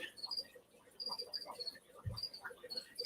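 A cricket that escaped from feeder stock chirps in a reptile room, giving short high-pitched trills in a steady repeating pattern at moderate level, with a faint low thump partway through.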